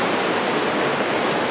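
Potato River Falls rushes at the top of the main falls, a loud, dense and unbroken roar of falling water that fills the scene with steady broadband noise.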